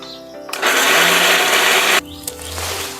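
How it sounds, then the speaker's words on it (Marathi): Kitchen mixer grinder whirring loudly as it blends green chillies for a spicy Rajasthani curd chilli dish, one burst of about one and a half seconds starting and stopping abruptly, with quieter handling noises before and after. "तर मंडळी आपण मिक्सरमध्ये हे लावून घेऊयात"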